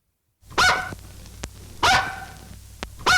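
Two loud, close dog barks about a second apart, with a couple of faint clicks between them.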